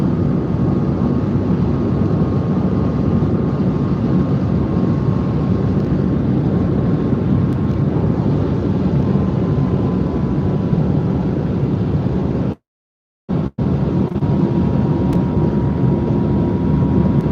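A Porsche Taycan Turbo GT cruises at around 265 km/h on an open autobahn at night, a continuous loud broadband roar of wind and tyres with a faint steady whine and a brief dropout.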